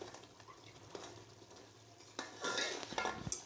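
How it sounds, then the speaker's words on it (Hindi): Eggs fry in a garlic soup gravy in a pan, a soft sizzle under clinks and scrapes of a spoon against the cookware, quiet at first and growing busier toward the end. "थोड़ी देर इसको भूनना है ताकि अंडे सही तरह पक जाएं बीच में"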